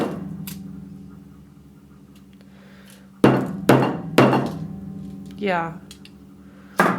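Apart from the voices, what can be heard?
hammer striking frozen solid pumpkin pie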